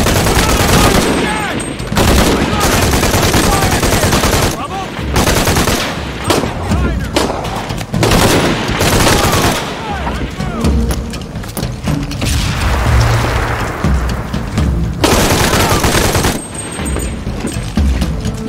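Enemy gunfire in Shadow of the Tomb Raider rattles in loud bursts of rapid automatic shots and single cracks, broken by short pauses and mechanical clicks, with brief speech in between.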